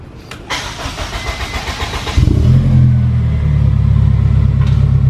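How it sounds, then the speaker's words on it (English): A Honda S2000 engine cranks over on the starter, fires up and settles into a loud, steady idle with a deep rumble, close by and with no one talking. "Alright, start the engine."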